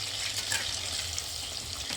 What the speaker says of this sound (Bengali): চায়ের জল ফুটছে এখন